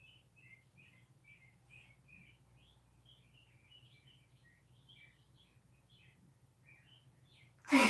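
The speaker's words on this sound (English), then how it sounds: "Those birds are loud." Several birds chirp and trill in a tree just outside, their bright calls repeating in quick bursts over a low steady hum, fairly close, until a sudden loud knock at the very end.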